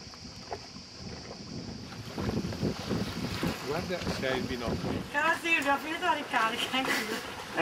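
A sailboat setting out under sail in a light breeze off Croatia, with steady wind rushing and buffeting the microphone over faint water wash, while people talk nearby through most of it.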